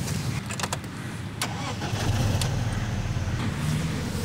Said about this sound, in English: The engine is on